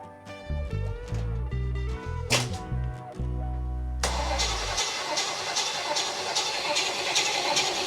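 A 1965 El Camino's engine cranks on the starter in several rhythmic bursts with brief pauses, then catches and runs with a loud, rough roar that continues steadily to the end.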